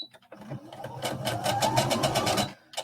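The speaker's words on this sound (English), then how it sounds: "just sewing right down that marking to our inch mark" A sewing machine stitches knit fabric for a skater dress in a quick, steady whirring burst lasting a couple of seconds, close and fairly quiet, starting and stopping abruptly.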